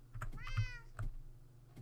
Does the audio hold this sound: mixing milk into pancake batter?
no